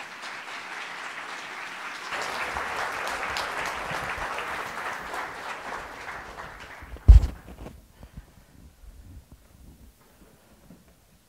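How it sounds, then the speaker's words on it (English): Audience at a university lecture hall applauds a visiting speaker, steady dense clapping swelling after a couple of seconds, then a sharp knock and the applause quickly fading into quiet room noise. "Let's welcome him with a strong applause."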